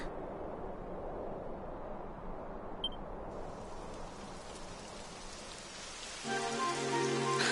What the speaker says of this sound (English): It would have to go and start raining